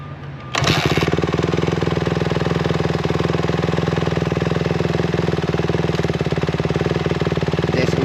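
A dirt bike engine kicks on loudly and runs at a steady, rapid idle with an even, buzzing pulse for several seconds, close by, with no voices.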